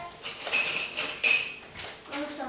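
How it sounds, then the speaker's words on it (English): A fork stirs beaten egg in a bowl, giving a bright, rapid metallic clinking and scraping against the bowl in quick uneven bursts, close and fairly loud. "I'm going to get a fork and I'm going to stir that round"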